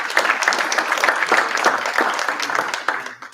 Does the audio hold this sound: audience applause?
yes